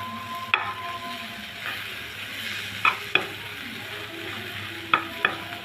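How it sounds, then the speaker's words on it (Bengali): Coriander leaves fry in a pan with a steady sizzle, while a spatula stirs them and gives a few sharp scraping clicks at irregular intervals. "দেখুন ধনিয়া পাতাটা কিন্তু ভাজা হয়ে যাচ্ছে।"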